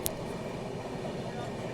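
A train rolls along the Katni bypass line in India, a steady, rumbling broadband wash of rail noise heard from close by, with a brief sharp click near the start and no voices.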